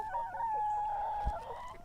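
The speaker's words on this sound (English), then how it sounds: "All of our barred rock chickens." Barred rock chickens, black and white hens, give a steady, fairly close vocal call that holds a wavering tone throughout, with a brief thump near the end and a low farmyard rumble beneath; no talking.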